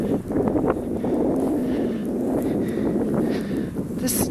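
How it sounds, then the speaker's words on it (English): Wind gusting across open ground during Winter Storm Juno's snowstorm, at about 19 degrees with knee-deep snow, makes a steady, loud, broadband rumble buffeting the microphone throughout. "It's a little windy."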